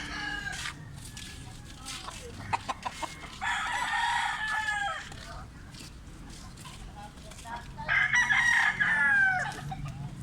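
A rooster crows twice, each a long rising and falling call, over soft background clucking and murmuring voices.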